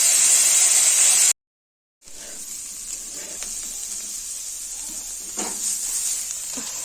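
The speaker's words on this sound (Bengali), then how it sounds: "ফুলকপিগুলোকে নুন হলুদ দিয়ে এইবার ভেজে নিব" Cauliflower frying in oil with salt and turmeric, producing a dense, continuous sizzling hiss heard close by, broken by a short silent gap before the frying noise resumes slightly softer.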